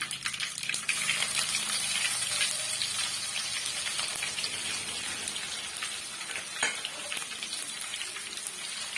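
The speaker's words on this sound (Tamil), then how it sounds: "இது மூணு சேர்த்து நம்ம எண்ணெயில் சேர்த்து வதக்கி விட்டுடலாம்" Crushed garlic and curry leaves sizzle steadily in hot oil while being sautéed for a Tamil-style thokku, a loud, continuous hissing crackle with no talk.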